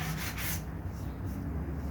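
A sponge sanding block rubs by hand along a wooden take-down recurve bow, giving soft continuous scratchy strokes, close and fairly quiet.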